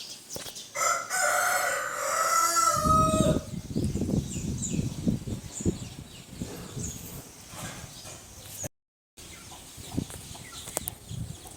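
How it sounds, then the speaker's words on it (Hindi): A rooster crows loudly outdoors in the early morning among hens, followed by scattered clucking and softer farmyard sounds with a brief dropout near the end. "पुकार ले रही मुर्गियाँ"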